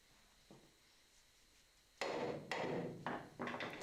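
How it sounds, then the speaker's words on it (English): On a 1980 Opel Kadett historic rally car, a hammer raps the wheel hub to free it from the tapered CV joint shaft: a faint knock, then four sharp close metallic blows in quick succession. "Little tap then to break the grip of the tapered shaft."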